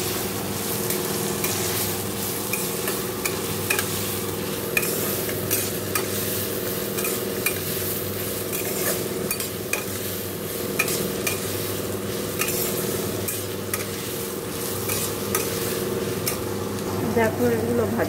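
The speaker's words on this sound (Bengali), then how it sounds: "এই ভাজার সাথেই আমি কাজু কিশমিশটাও দিয়ে দেবো" Cashews and raisins sizzle steadily in hot oil in a pan while a spoon stirs them with constant scraping, close and even, as part of making fried rice.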